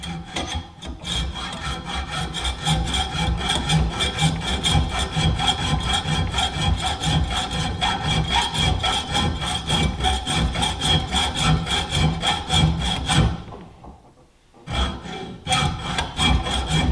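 Steady back-and-forth sawing cuts the pins off a handmade ulu knife made from an old saw blade. The strokes are close and continuous, pause briefly, then resume with no talking.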